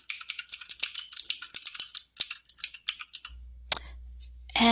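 Rapid keystrokes on a computer keyboard as a portfolio name is typed in, a quick run of close, crisp clicks for about three seconds, then a couple of isolated taps over a low hum.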